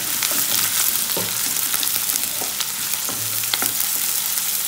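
Finely chopped onions with fennel seeds sizzle steadily in a pan of hot oil for an egg thokku, a constant crackling fry punctuated by occasional scrapes and pops of stirring, close and loud with no speech.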